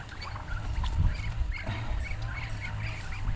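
Indonesian muscovy duck calling on a native chicken farm, with repeated short raspy calls in a steady rhythm over constant low background rumble, fairly close.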